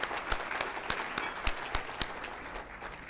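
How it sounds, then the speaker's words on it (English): Applause at a regional Aboriginal recognition awards ceremony, an audience clapping steadily with distinct loud claps in a regular beat, fairly faint and at some distance. "Let's give her another round of applause, guys."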